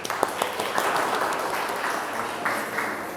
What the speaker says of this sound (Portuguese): Uma salva de palmas para o professor Luiz, gente.